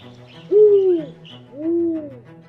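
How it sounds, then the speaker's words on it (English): A spotted eagle owl gives two deep, mellow hoots, each swelling and then fading, with a short pause between them and a quiet night background. "the spotted eagle owl glides effortlessly through the air on velvety wings"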